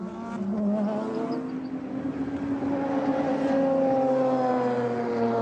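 Le Mans prototype and GT race cars at the 1998 24-hour race scream past on track, a steady loud engine drone with rising pitch as they accelerate, no talk over it.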